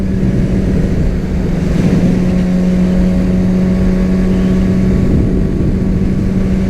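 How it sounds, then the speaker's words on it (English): Continuous loud Yamaha R6 motorcycle engine hum under a bridge with a reverberant, boomy quality, holding a fairly steady pitch throughout with no talking. "Well, bridge exhaust, I guess."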